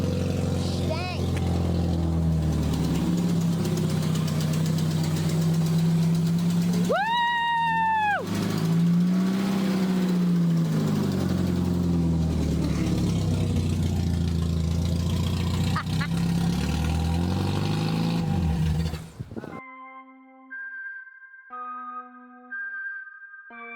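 A battered 1990s sports car with a stalling problem idles with a loud, rough, rumbling engine close by, while someone shouts and whoops over it before it cuts out near the end.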